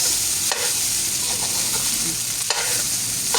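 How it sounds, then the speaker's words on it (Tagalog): Leftover rice is sautéed in a pan as ginisang kanin, giving a loud, steady sizzle with a few brief stirring scrapes and no talk. "Ang gigisa ag bahaw."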